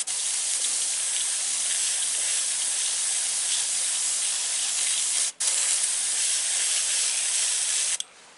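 Airbrush spraying paint onto a T-shirt, a steady loud hiss that runs almost nonstop, broken by one very brief cut near the middle and stopping just before the end.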